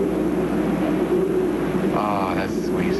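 An aerobatic airplane roars steadily and loudly through a stall turn, its engine drone continuous for the whole few seconds with a brief higher whine toward the end.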